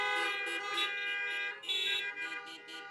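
Several car horns honk together at a drive-in church service, blaring in overlapping bursts for a few seconds with a brief dip before another loud round.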